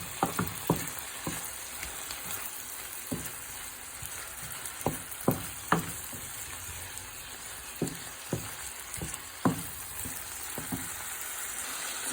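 Shrimp frying in a pan, a steady loud sizzle throughout with occasional sharp clinks and scrapes from a utensil stirring nearby.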